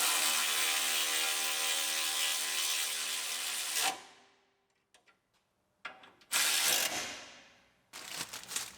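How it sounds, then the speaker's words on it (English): A ratchet tightens bolts on the hood latch of an Acura RDX, with a long steady run of clicking, then silence and a few isolated clicks, and two more short loud bursts. "We put them back in and tighten everything down."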